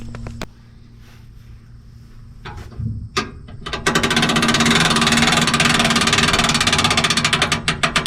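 A farm tractor works beside a silage bagger while corn silage is being wrapped: a few clanks and knocks, then from about four seconds a loud, close, rapidly pulsing engine and machinery clatter that continues steadily.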